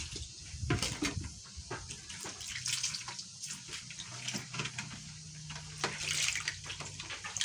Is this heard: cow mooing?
no